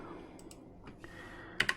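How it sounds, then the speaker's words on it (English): A few soft, sparse keystrokes tap on a computer keyboard, faint and close, ending with two sharper clicks. "we're going to type in"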